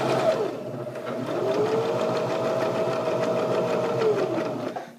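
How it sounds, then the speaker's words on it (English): Sewing machine stitching a seam, a steady close mechanical whir with rapid rhythmic needle clatter running continuously for several seconds. "go ahead and start sewing again"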